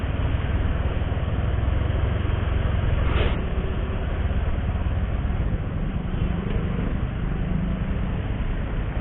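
Inside a car stuck in a heavy traffic jam near Kota Tua, a steady, close low rumble of engine and road noise continues throughout, with no talking.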